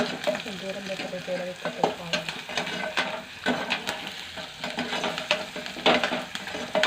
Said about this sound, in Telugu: ఇప్పుడు కొంచెం మంచిగా కలుపుకోవాలి